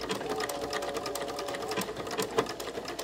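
A sewing machine stitches with a blindhem foot, a fast regular mechanical chatter that runs close and steady for about three seconds without talk.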